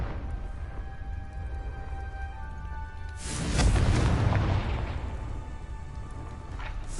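A Confringo fire spell in Hogwarts Legacy bursts into a deep, rumbling explosion that swells for about a second and then decays slowly, set against a quiet steady game ambience with faint tonal hum.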